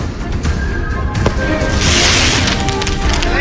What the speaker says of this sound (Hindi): धुआं और धमाकों के बीच इन लड़कों ने सड़क पर आतिशबाजी शुरू कर दी